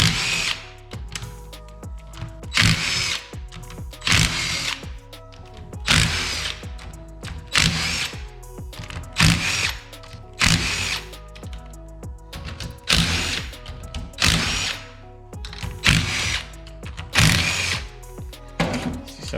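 Power tool rapidly spinning 12 mm bolts off a turbo 4G63 cylinder head, with loud repeated whirring bursts in close succession, each a short rattling drill run separated by brief pauses.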